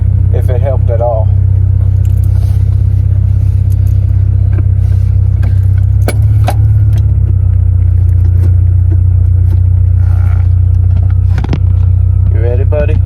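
Honda Integra on new coilovers driving along, a loud steady low road and engine rumble from inside the cabin with occasional clunks and rattles, and brief speech now and then.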